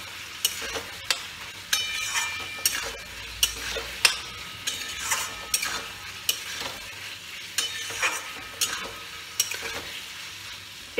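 Tomatoes go into a frying snakehead fish curry with potatoes. A spoon stirs with regular scraping knocks against the pan over a soft steady sizzle, about a dozen strokes spaced evenly.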